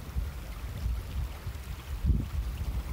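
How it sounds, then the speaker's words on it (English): Strong wind beside the River Naver in the Scottish Highlands buffets the microphone with a steady, heavy low rumble and gusts, loud and continuous with no voices. "You probably hear the wind is strong at the moment"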